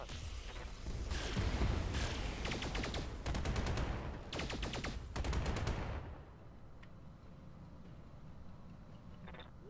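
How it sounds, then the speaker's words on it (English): Mech weapons firing in the Roguetech video game: several loud bursts of rapid repeated shots in quick succession over about six seconds, then quieter ambient rumble as the volleys stop. "Okay, let's target this guy with everything and fire."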